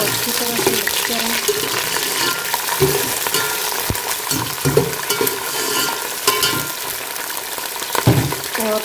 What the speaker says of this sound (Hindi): मटरों को अच्छी तरह से मिक्स करें।